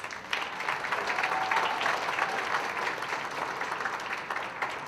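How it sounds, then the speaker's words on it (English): Audience applause at a high school Mr. Vineland pageant, a steady, fairly dense wash of clapping from a crowd honoring the event organizer, sustained at even volume throughout with no talking. "if we can give her a round of applause"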